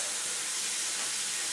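Courgette hits a hot pan with pork and sizzles, a close, steady, hissing crackle that holds at even loudness from start to finish.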